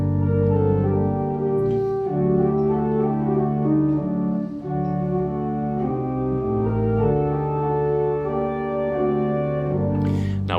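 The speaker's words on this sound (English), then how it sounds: "one of the songs that we sing on a Friday night, which is called Shalom Aleichem, sounds like this" Synagogue pipe organ playing the Friday-night song Shalom Aleichem, a sustained, full-toned melody with harmony held over a steady bass, loud and continuous, alone with no voices.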